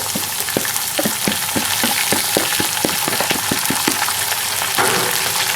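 Fresh fenugreek leaves fry with onions, ginger and garlic in a pan for keema hara masala: a steady, loud sizzle broken by a regular run of sharp stirring scrapes, with no talking.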